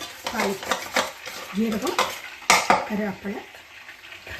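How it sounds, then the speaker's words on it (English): A spoon stirs roasted fenugreek powder into a turkey berry pickle, giving irregular scraping and clinking against the vessel that is close and moderately loud, with a sharp knock near the middle. "Mix this all up."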